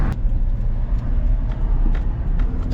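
A Honda Fit GD3 engine fitted with a cheap aftermarket intake drones loudly and steadily under acceleration, a dense low rumble with intake roar holding throughout.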